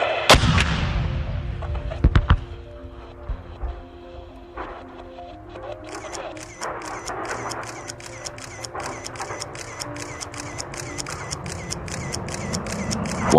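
Demolition charges bring down an old hotel in China, with a few loud, sharp blast cracks at the start and then a long, fast run of rapid snapping pops over low rumbling.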